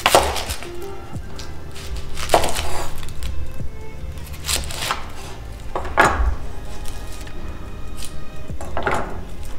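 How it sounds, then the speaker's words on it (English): Knife chopping red onion on a cutting board, heavy, irregular thuds and cracks repeating close up with no talking. "We're gonna chop up the red onion or purple onion, depending on what side of the US you're from."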